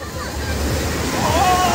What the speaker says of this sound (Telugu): అలలు చూస్తేనే ఘోరంగా వస్తుంది